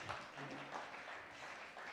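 Audience applause at a school science, engineering and health presentations event: steady, dense clapping from a crowd, fairly faint and even throughout, with no pauses.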